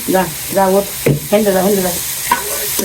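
Leafy greens fry in oil over a fire on a wet, rainy day, with a loud, close crackling sizzle and repeated stirring strokes, broken by several short pauses, and no voices.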